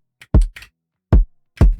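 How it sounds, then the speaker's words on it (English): A short, snappy kick drum with no effects thumps three times in a loose pattern, each hit punchy and quickly cut off, with smaller ghost hits between them and silence otherwise. "So I changed the kick drum to be something shorter because the original one was just way too long."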